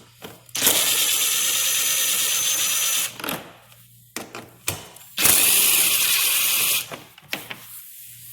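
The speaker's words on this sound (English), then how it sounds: "Now the next thing you want to do is remove a few 10mm bolts." A power ratchet or drill-type driver backs out 10mm bolts on a Raptor 660 ATV, running in two loud sustained whirring bursts of roughly two to three seconds each, separated by clicks and handling clatter, with no talk.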